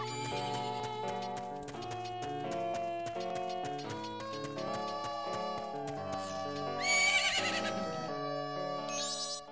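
A horse whinnies amid clip-clopping hooves on a ranch in The Legend of Zelda: Majora's Mask, over bright, layered game music with chimes and a sparkling flourish near the end.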